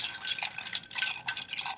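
A spoon stirs a cocktail in a glass, giving a quick series of light, bright clinks and scrapes that come close and alone.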